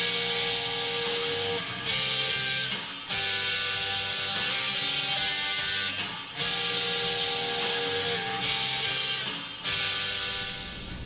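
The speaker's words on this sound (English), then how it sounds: "When we put some serious overdrive on those chords, they'll sound like this." Electric guitar chords with heavy overdrive, played as a song: a dense, sustained distorted wall of sound with chord changes every few seconds, loud and steady with no voices.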